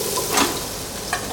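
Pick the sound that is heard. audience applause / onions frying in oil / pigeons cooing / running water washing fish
onions frying in oil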